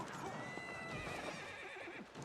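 Horses neigh and whinny in the video game Age of Empires 4, a close, shrill call over clip-clopping hooves and busy battle ambience, with no talking.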